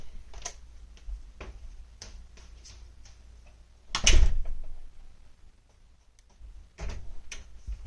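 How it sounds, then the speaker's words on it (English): A door slams once with a sharp, loud thud partway through, set among soft scattered clicks and ticks in a quiet craft room. "As you hear me slam the door"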